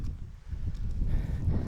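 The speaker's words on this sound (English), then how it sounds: "and it's fair windy" Gusty wind on an exposed mountainside during a solo wild camp buffets the microphone in low, uneven rumbling surges that swell and ease over a couple of seconds, with no talking.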